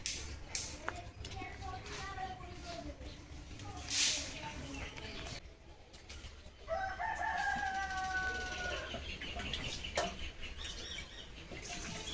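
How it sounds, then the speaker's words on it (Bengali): Neighbours' chickens clucking and crowing outdoors at a moderate distance, with a few drawn-out calls over a steady background hum and some voices talking nearby. "আর পাশের বাড়ির মুরগি দেখছি"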